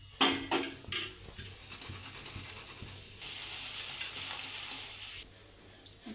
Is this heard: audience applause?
no